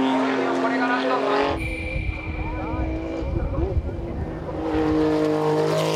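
A Lotus Esprit race car laps a Japanese circuit, its engine note rising and falling with tyre noise as it passes through corners, loud and close, with someone talking over part of it.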